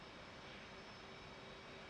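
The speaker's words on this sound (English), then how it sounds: "Shutting down the left engine." Steady broadband jet roar from an F/A-18 Hornet's left engine in a flight simulator during shutdown, a constant dense whine and rumble with a faint tonal hum throughout and no talking.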